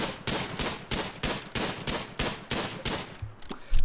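Repeated gunshots ring out in RimWorld as a colonist fires at a beaver, eight or so sharp cracks in a steady, evenly spaced rhythm, close and loud, with no voices.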